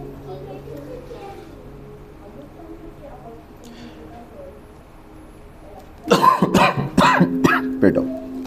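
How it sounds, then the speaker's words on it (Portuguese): After several seconds of quiet room noise, a person coughs hard several times in a row, loud and close, with brief pauses between bursts. "Perdão, estava segurando essa tosse há uns 40 minutos."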